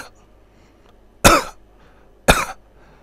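A person's voice imitates a chicken sick with mycoplasmosis coughing, two sharp, loud bursts about a second apart against near silence.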